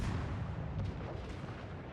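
Warship gunfire in the World of Warships Legends video game booms faintly and muffled, a low rumbling salvo that sounds distant and soft.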